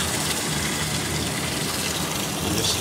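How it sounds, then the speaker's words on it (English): Tap water gushing steadily into a pot to rinse lamb for an Irish recipe, a loud, close, continuous rush of running water with no break throughout. "You want to get it till it's only clear water coming out of the pot."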